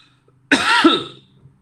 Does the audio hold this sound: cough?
yes